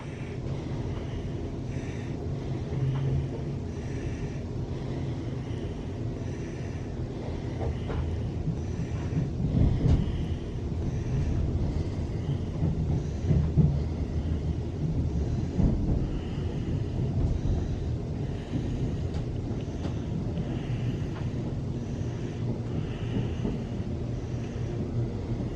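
A train pulls away from Northampton station, a steady loud rumble of rail wheels and engine with wind buffeting, continuous throughout with no talk.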